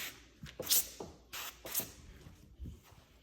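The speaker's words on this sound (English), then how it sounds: "Spray this down real quick." A handheld spray bottle mists water onto a Jeep Cherokee windshield during window tint installation, giving four or five short, crisp hissing squirts in uneven rhythm, close and clear with no talk.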